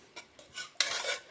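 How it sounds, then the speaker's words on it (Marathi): A ladle mashes cooked fenugreek greens for a Maharashtrian methi dish in a pot, giving a few short scraping, squelching strokes that build to a longer, louder rub, with no talking. "चांगली घोटून घ्यायची डाव्याने तिला"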